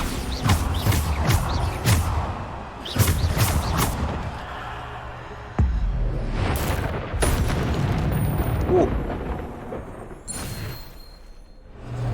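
Repeated Bombarda explosion spells in Hogwarts Legacy go off as sharp, booming bursts, several in quick succession. Heavy, rumbling combat effects sit between the blasts.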